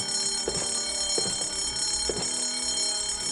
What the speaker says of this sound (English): The fire alarm is not a toy, Mr. Threepwood.